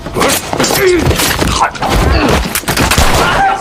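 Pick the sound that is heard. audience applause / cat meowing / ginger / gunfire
gunfire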